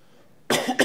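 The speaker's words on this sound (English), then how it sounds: "Sorry for my cough." A single harsh cough, close and loud, after a moment of near silence, followed by a short second burst.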